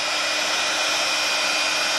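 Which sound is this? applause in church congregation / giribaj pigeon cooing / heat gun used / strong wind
heat gun used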